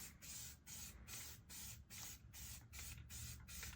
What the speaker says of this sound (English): spray the whole thing so it just all blends in